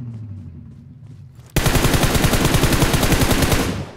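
An Uzi submachine gun fires in a video game on the Livik map, cutting in suddenly with a loud, rapid, sustained burst of close gunshots that lasts a couple of seconds before tailing off. Quieter game ambience comes before it.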